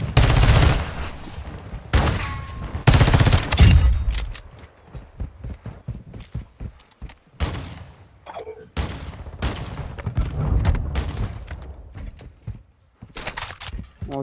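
Gunfire in the Call of Duty: Modern Warfare 2 Infected mode crackles in loud close bursts and single shots, broken by short gaps with fainter game noise between volleys.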